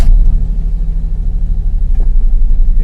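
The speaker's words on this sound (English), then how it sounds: "You can see the car has started." A Maruti Suzuki 800's engine runs just after starting, a heavy low rumble close to the microphone with a steady pulsing throb and no talking.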